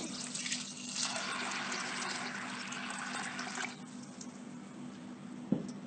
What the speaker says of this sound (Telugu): ఈ పెసలకి ఈ బౌల్తో నిండా నీళ్ళు పోసాను నేను